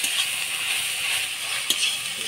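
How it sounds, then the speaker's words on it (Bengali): Greens frying with fish roe in a pan, a steady close sizzle with occasional stirring scrapes, heard alone without talk. "শাকটা ভাজা ভাজা করে দেবো।"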